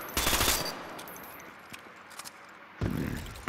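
A burst-fire gun in the Off The Grid game fires two short, sharp volleys, one at the start and one near the end, separated by a quieter stretch of faint background noise.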